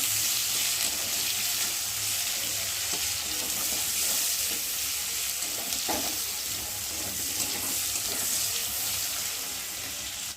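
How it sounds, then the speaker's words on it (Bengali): Chopped onions fry in a pan with a steady, close hiss and crackle that runs unbroken throughout, with no voices over it. "পেঁয়াজটা একটু ভালো করে ভেজে নেব"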